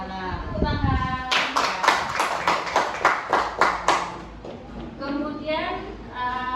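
A class claps hands in a rhythmic burst of about a dozen sharp, evenly spaced claps in a classroom, with a teacher's voice speaking before and after.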